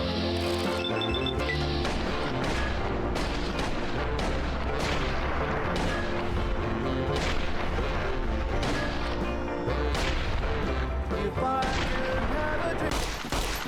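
Rapid bursts of gunfire from a .45 caliber auto pistol in Fallout New Vegas, loud and repeated through the whole stretch, layered over game music and a dense battle din.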